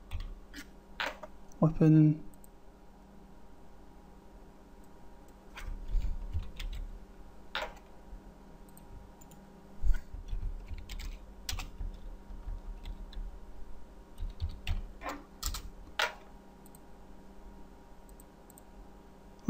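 Computer keyboard typing during a game-development session, with scattered light key clicks and a short burst of taps, heard under quiet speech.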